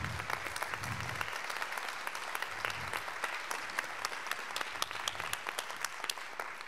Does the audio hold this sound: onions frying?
no